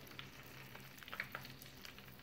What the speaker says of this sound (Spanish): Mi manteca ya está caliente. Voy a empezar a agregar el chorizo.